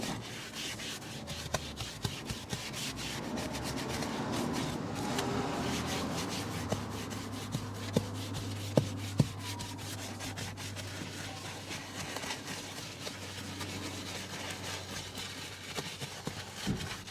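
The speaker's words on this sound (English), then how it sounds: "before being thoroughly worked into the grain with a soft bristled detailing brush" A soft-bristled detailing brush scrubs soap into the leather seat of a Volvo C30 T5, a steady close rubbing and brushing texture that runs continuously with small clicks and no talk.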